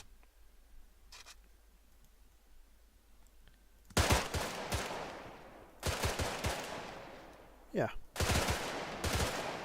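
AK-74 rifle fire in an Arma mod game, several loud close bursts of automatic shots with sharp cracks and ringing tails, starting after a few seconds of quiet and a brief spoken word.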